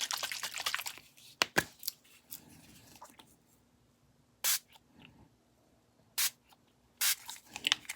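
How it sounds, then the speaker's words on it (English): Short, sharp bursts from a spray bottle misting onto grunged-up paper in an art project, a few separate hissing puffs spaced apart amid quiet handling sounds. "So I'm going to use that spray."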